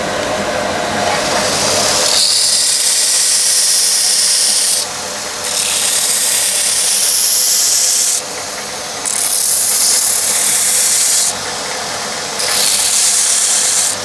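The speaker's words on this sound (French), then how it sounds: "Je vais commencer avec une bande abrasive avec un gros grain pour enlever beaucoup de matière." A belt grinder fitted with a coarse-grit abrasive belt grinds a knife blade in a Laguiole workshop, loud harsh rasping in four long passes separated by brief pauses of lower motor hum.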